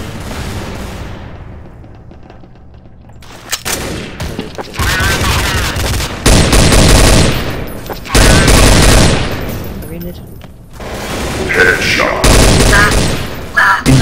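Loud bursts of gunfire in the Counter-Strike: Source video game come in several long volleys separated by brief quiet gaps, the shots heavy and rapid.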